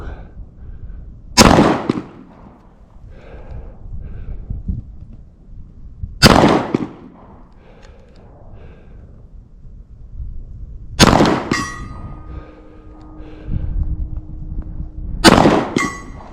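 Pistol shots from a Smith & Wesson CSX ring out against steel targets, four sharp loud cracks spaced several seconds apart, each followed by a metallic ringing clang that lingers, one with a sustained tonal hum.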